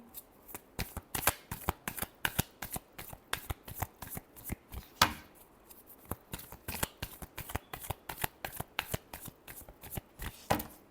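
Tarot cards shuffled by hand close up: a quick run of crisp riffling and flicking bursts in an uneven rhythm, with no other sound behind them.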